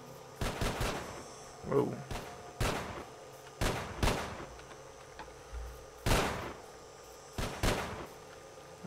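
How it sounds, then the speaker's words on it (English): Gunfire in the video game S.T.A.L.K.E.R.: Call of Pripyat, a series of sharp bursts of shots in irregular clusters over several seconds, with a brief exclamation from a player amid the shooting. "We got some shooting going on there."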